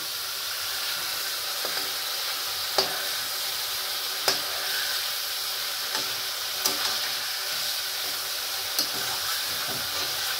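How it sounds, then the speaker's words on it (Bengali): Hilsa fish frying with spice paste in a pan gives a constant, even sizzle close by, punctuated every second or so by sharp spatula taps and scrapes as the masala is stirred. "মাছের সঙ্গেই মশলাটা কষাচ্ছি"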